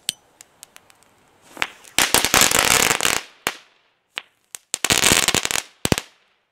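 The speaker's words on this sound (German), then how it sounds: "Powerballs." Powerballs firecrackers explode outdoors on New Year's Eve in loud, close bangs, scattered single cracks between two dense, sustained crackling bursts of rapid detonations.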